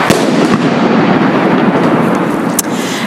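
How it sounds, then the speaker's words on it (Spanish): A firecracker exploding, a loud crackling burst with sharp pops and a rumbling, noisy wash that fills the whole moment at close range. "cuando veo que va a explotar un petardo"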